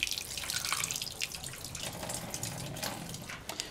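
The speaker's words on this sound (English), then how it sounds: "just washing off the the white of the egg" An egg is rinsed under a running kitchen tap to wash off the egg white, with a steady close stream of water splashing into a sink throughout.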